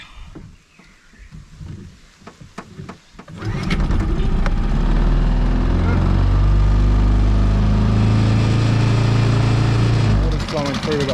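A small outboard motor running in a water-filled bucket cranks and catches after a few clicks, then runs steadily with a loud, throaty idle that continues to the end.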